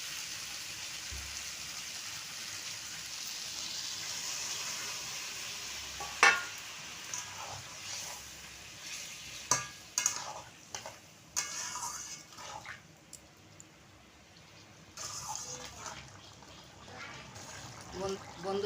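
A curry of ash gourd stems, potato, pumpkin and fish roe simmers in a pan after water is added, giving a soft continuous bubbling hiss broken by clinks of a utensil, with a voice now and then.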